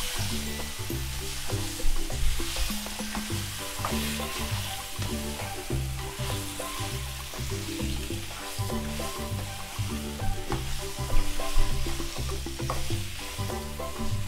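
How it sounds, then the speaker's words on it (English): Chicken broccoli curry stirred in a hot pan, a loud continuous sizzle with rhythmic scraping and clattering of the spoon throughout, no voices. "Give this a nice stir. You want to mix up a lot of curry."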